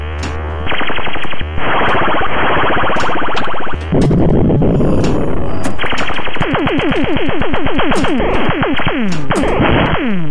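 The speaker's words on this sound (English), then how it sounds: "Also, nice mechanical sounds of these flippers here." Virtual recreation of a 1984 Gottlieb Alien Star pinball table, with loud, busy electronic game effects, rapid zapping bursts and descending tones, and mechanical flipper clacks mixed in throughout.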